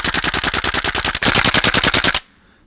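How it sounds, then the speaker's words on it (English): Rapid full-auto bursts from a KJ M4 green gas blowback airsoft rifle, loud and close, a steady stream of sharp metallic cracks that pauses briefly and resumes before stopping abruptly. "All the metal increases the sound and nearly makes your ears ring when firing."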